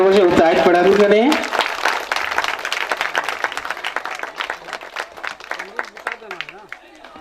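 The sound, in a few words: children clapping for women's power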